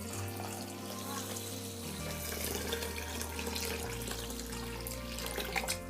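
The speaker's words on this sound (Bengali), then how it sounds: "ডালে আমি পানি ডালছি," Water pours steadily into a pot of masoor dal (red lentils) being washed, a continuous splashing rush of moderate loudness with no voices.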